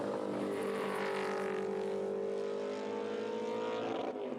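BMW race cars in a BMW Race Driver Series open class round at Taupo Motorsport Park, New Zealand, roar past with a loud, sustained engine drone that holds steady for the whole stretch and dips only slightly near the end.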